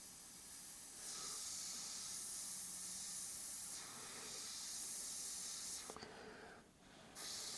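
Paint hisses steadily from an airbrush being dusted onto a Joker artwork, a continuous close spray with brief pauses and a short gap near the end.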